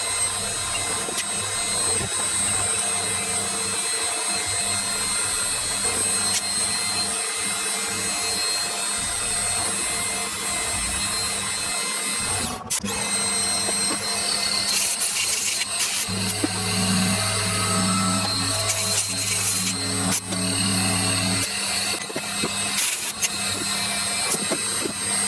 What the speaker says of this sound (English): so now I'm going to drill 4 holes in here